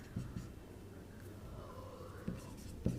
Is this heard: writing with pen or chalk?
yes